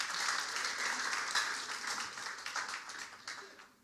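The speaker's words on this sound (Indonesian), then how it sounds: "Tepuk tangan buat Allah kita." Church congregation applauding during a Sunday service, a dense, steady wash of many hands clapping together that fades slightly toward the end.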